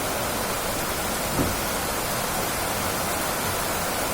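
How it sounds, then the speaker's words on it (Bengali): Steady rain falling, a broad constant wash of noise without pauses or other sounds. "খুব সুন্দর বৃষ্টি হচ্ছে"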